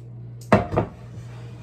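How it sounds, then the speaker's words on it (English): Mushy, wet cornbread dressing scooped into the same metal pan the cornbread was baked in, giving two quick close thuds and scrapes over a steady low hum. "And now I'm gonna put it in my pan."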